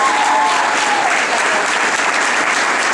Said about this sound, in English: they deserve a round of applause for all the hard work they've done